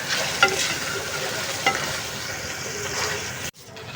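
Mutton masala with cumin powder frying in a pan and being stirred, a steady broad sizzle with a couple of sharp utensil scrapes, close and fairly loud, cutting off abruptly near the end.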